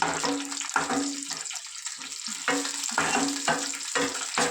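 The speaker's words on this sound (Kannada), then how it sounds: "ದ್ರಾಕ್ಷಿ ಗೋಡಂಬಿ ಎಲ್ಲ ಜಾಸ್ತಿ ಹಾಕಿ ತುಪ್ಪದಲ್ಲಿ ಚೆನ್ನಾಗಿ ಫ್ರೈ ಮಾಡ್ಕೊಳ್ಳೋಣ" Raisins and cashews fry in ghee in a pan, giving a steady sizzle broken by repeated scraping stir strokes, close and fairly loud, with no talking.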